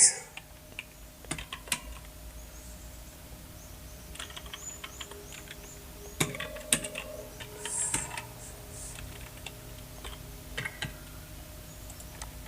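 A computer keyboard clicks as CSS code is typed, giving irregular bursts of crisp keystrokes with short pauses and a few louder taps, close and clear against a quiet room.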